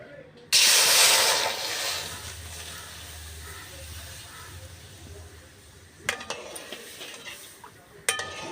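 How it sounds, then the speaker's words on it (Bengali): Loud sizzling hiss as homemade tomato sauce hits a hot wok, settling into a steady bubbling simmer, with a few utensil clinks near the end. "এবার একটু ফুটতে দেবো"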